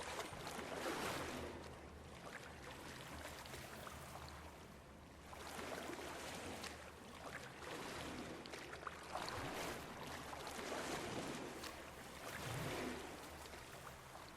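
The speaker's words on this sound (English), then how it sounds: "the sound of the water, the sound as we sort of slog through the water" Feet wade slowly through shallow indoor pool water, making heavy sloshing swells that rise and fade in a steady rhythm every few seconds, close by over a low hum, with no talking.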